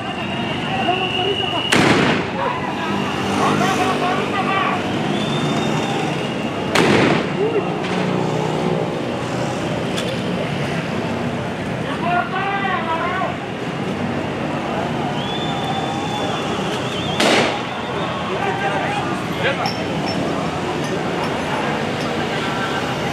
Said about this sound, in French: ils ont été contraints de se disperser sous les tirs de grenades lacrymogènes